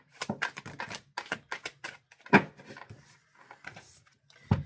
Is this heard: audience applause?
no